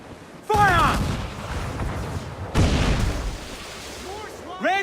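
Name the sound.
ship cannon fire in video game Assassin's Creed IV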